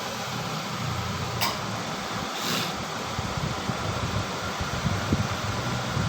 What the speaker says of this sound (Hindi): पंखे की आप आवाज़ सुन पा रहे हो पीछे